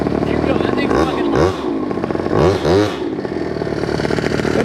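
A Honda Dio scooter with a 120cc stroker engine revs loudly up close on a test ride, buzzing steadily with a few rising and falling surges, while someone talks over it.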